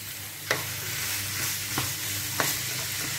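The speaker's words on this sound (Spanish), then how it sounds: "Y ahora le voy a poner la carne" Minced meat frying with spices in a hot pan, a steady close sizzle with a few sharp clicks and scrapes as it is stirred, no voices.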